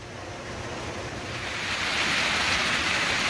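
Water rushing out of Hamer Cave, the source of Mill Creek, feeding a corn-grinding mill: a steady broadband roar of flowing water that swells slightly louder midway, continuous and fairly close, with no voices.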